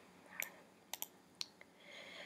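A handful of sharp, quiet computer mouse clicks spaced irregularly while working in Scratch, crisp and close in a near-silent room with no talking.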